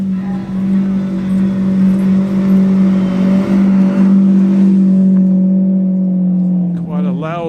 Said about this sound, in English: Loud Lambo